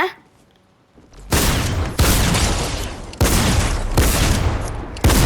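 Powerful weapon fire in Fortnite: after a quiet start, several loud, heavy blasts boom one after another in a rapid barrage, each with a sharp attack and a long sustained roar, close and dominant.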